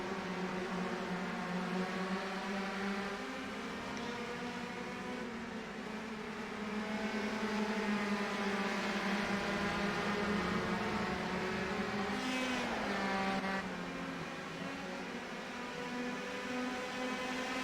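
Race cars in a racing video game at the Austrian Grand Prix whine with layered, droning engine tones that rise and fall together as several cars run close, loud and continuous, with no talking.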